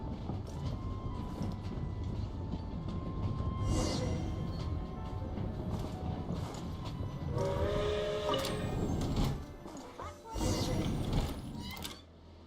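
A train at Snezhnograd train station in the video game Genshin Impact rumbles steadily with mechanical creaks and clanks, rising toward the end with bursts of hissing noise.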